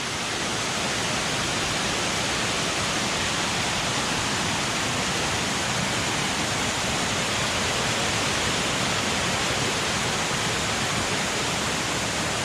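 A waterfall roars in a continuous, dense, loud hiss of falling water, steady and unbroken from start to finish without any voices.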